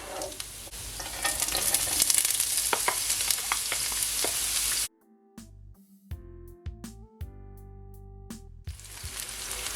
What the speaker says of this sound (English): now I'm gonna add my onion.